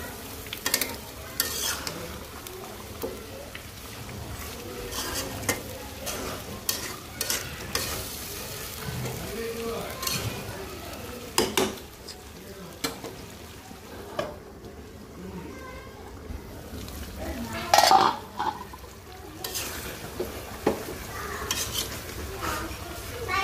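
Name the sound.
stirring and frying liver in a pot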